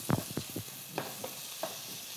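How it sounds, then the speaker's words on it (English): Bacon sizzles softly in a pan while being stirred, with a few close scraping and rustling strokes at the start, then sparse light clinks over a faint, steady hiss. "Let's stir our bacon."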